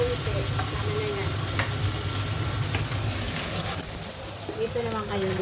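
Sausage casserole sizzles loudly and steadily in a pan as it is stirred, with occasional scraping and clinking of the utensil and a voice briefly audible over the frying.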